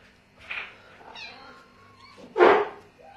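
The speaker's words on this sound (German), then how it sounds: "Und jetzt miaut da eine Katze." A cat meows outside a house where kittens have been brought, a soft call followed by a louder, closer meow about two seconds later, with faint background noise.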